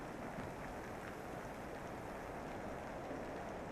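Rain falls steadily in an overcast, grim video game environment, a soft, even hiss of drops with no break, fairly quiet and without voices.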